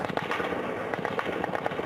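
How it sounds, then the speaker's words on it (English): Gunfire at the Sardar Daoud Khan military hospital in Kabul crackles as a rapid, irregular string of sharp shots that sound somewhat distant and keep going throughout. "The sound of gunfire crackled from the Sardar Daoud Khan military hospital in Kabul today."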